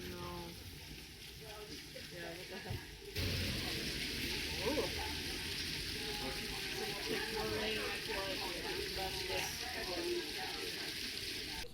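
Steady rain pours down on an outdoor woodcut printing event, a dense hiss of drops that grows heavier partway through and keeps going, with occasional faint voices underneath.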